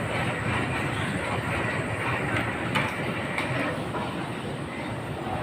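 The Janhit Express train stands at a station platform, giving off a steady, dense rumble of rail and mechanical noise with a few faint metallic clanks, and no one talking.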